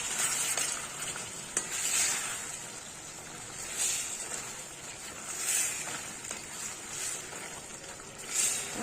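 A tomato pickle cooks in a pan as it is stirred and turned, a soft bubbling sizzle broken by periodic scraping strokes of a spoon, fairly close and moderate in level.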